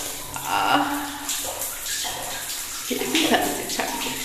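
Water is splashed and poured over a person's body during a bath, a close, uneven rush and slosh in repeated pours, with a voice talking over it.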